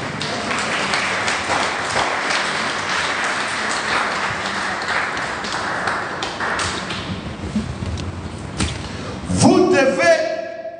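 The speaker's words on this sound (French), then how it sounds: "Applaudissez Jésus" A church congregation applauds in a dense, steady patter for most of the stretch, with a sharper burst of clapping and a brief ringing tone near the end.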